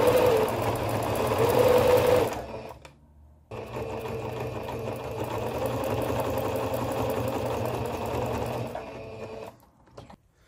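A sewing machine runs in close, rapid bursts while stitching the straps of a stroller cover, with one continuous stretch of stitching, then a pause, then another long run before it stops.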